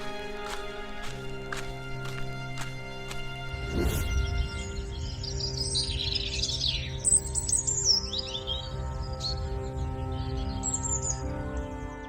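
A cartoon golden bird gives quick, bright chirps and tweets in a quiet household setting, with a soft thump and scattered light rustling underneath.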